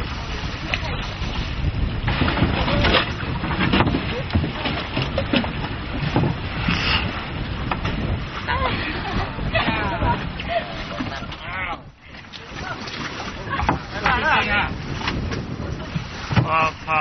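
A long, narrow one-person small boat pitches over choppy sea waves near a Thai bird's-nest island, with continuous rushing water, buffeting wind and uneven splashes that stay close and loud.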